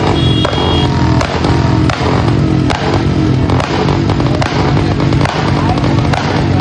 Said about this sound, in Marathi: फटाकड्यापेक्षा मोठा आवाज काढाल फायरिंग पाडून